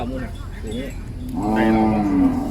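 Water buffalo low at a livestock market, one long, deep, rising moo that swells loud near the end over a steady crowd murmur and faint background voices.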